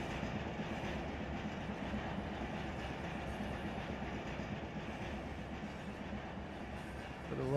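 Locomotive dynamic braking in the Run 8 train simulator on BNSF rails, a steady low rumbling roar with rhythmic rail clatter underneath, continuous and fairly quiet throughout.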